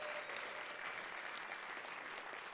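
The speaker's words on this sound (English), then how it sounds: "Let's give that a round of applause." An audience applauds the university's first female president, an even, sustained patter of many hands at moderate distance with no break.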